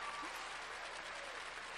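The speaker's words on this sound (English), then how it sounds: "So please give yourself one more hand of applause because you're awesome." Audience applause at an event, a brief, faint but steady patter of many hands clapping.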